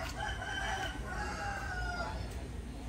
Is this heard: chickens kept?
yes